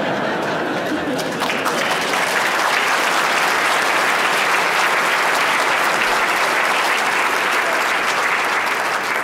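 Long, full applause from a large audience of scientists at a national science awards ceremony, dense and steady for over nine seconds, with faint chatter underneath.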